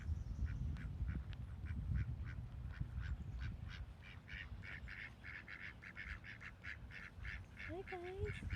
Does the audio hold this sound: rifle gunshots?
no